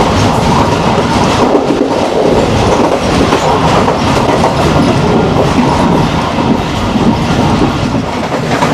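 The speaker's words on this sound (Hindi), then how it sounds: "दोस्तों खारियाँ स्टेशन से अब जो स्पीड है वो बढ़ना शुरू हो गई है।" Pakistan Railways train picking up speed after Kharian station: loud continuous rolling roar with rhythmic wheel clatter and faint squeal, steady throughout, no talk.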